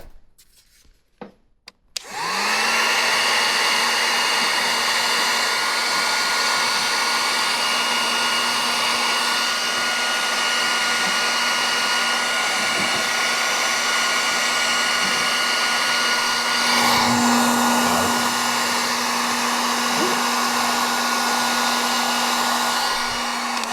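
A hot air gun blows a loud, steady whooshing roar while warming wrap film on a BMW fender, starting after a few seconds of quiet handling noises and running on without pause, no voices.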